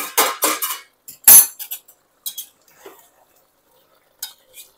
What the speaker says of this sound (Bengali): 5 মিনিট পর ঢাকনা খুলে দেখে নেব।